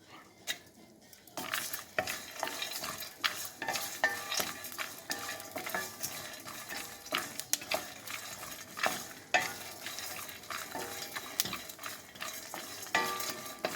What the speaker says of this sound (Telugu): మంచి వాసన పోయే వరకు వేయించుకోవాలి